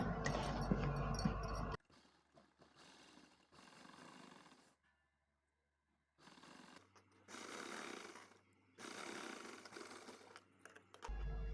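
A sewing machine stitches the edge of a blouse in several separate bursts, each a steady mechanical whir lasting a second or two, broken by short pauses, close and fairly quiet.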